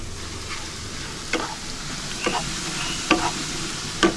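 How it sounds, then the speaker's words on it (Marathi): Finely chopped garlic frying in a pan with onion and cashews, a continuous sizzle with four or five distinct spatula scrapes spaced through it, close by and moderately loud, no talking. "लसूण चांगली फ्राय व्हायला द्यायची."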